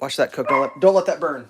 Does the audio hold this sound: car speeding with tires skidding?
no